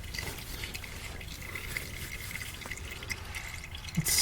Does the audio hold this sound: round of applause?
no